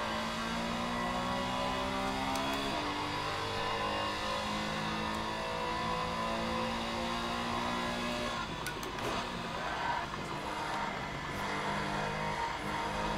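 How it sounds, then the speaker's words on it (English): A race car engine in a racing video game drones and revs at Imola as the throttle is fed in, a steady mid-pitched mechanical roar with shifting tone, rather faint and with no talking. "I feather the throttle"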